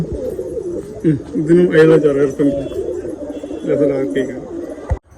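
Pigeons in a loft coo close by in a steady, overlapping stream of low, throaty calls that run continuously and stop abruptly near the end.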